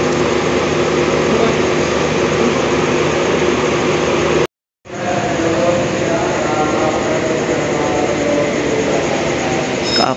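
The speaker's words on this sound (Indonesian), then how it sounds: "KA Parsel berangkat nih" KA Parsel Selatan freight train departing a station, a loud continuous rumbling and droning of rolling wagons, briefly cut out midway before resuming.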